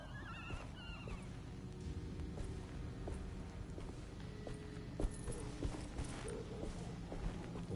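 Hoofbeats of a part-horse, part-man creature in a video game clop steadily against a dense, rumbling background, with occasional whinny-like cries and mechanical clanks mixed in.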